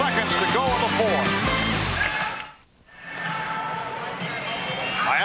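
Arena crowd at a Magic–Heat NBA game in Miami cheering a Heat play late in the fourth quarter, a loud continuous roar that dips briefly before swelling back, with a commentator's voice over it.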